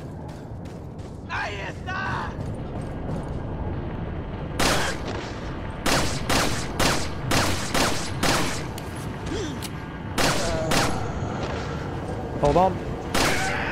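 Gunfire rings out in Resident Evil 4, a run of sharp, loud shots spaced irregularly over the second half, with scattered game effects and someone talking briefly between bursts.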